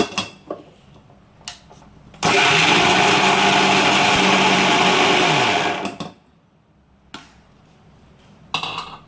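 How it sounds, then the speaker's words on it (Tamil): A kitchen mixer grinder whirs loudly and steadily for several seconds as it grinds coconut for ragi puttu, then stops abruptly, with quiet handling sounds before and after. "ஸோ மிக்சியில போட்டு ஒரு அடி அடிச்சு எடுத்துக்கலாம்."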